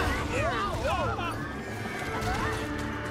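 A horse whinnies repeatedly in Kingdom Hearts 3, in a forest setting, with clip-clop hoofbeats and game effects beneath, while a voice talks over parts of it.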